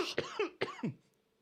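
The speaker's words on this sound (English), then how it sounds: "If you hear my cough is very wet" Four wet, phlegmy coughs in close succession, loud and near, each a harsh rattling burst, then quiet.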